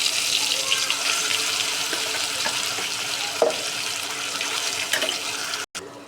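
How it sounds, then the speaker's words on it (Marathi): A bay leaf and ground masala paste hit hot oil and sizzle steadily, a loud continuous hiss with a few small pops near the end and a brief cut-off just before it stops. "आता तेलामध्ये मी तेजपान टाकते, वाटण केलेला मसाला टाकते।"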